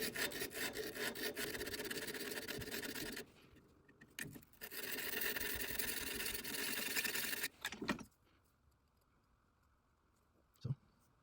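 A Forstner drill bit's face is polished with steady, scratchy rubbing strokes that stop and restart a few times, ending in quiet with one short scrape.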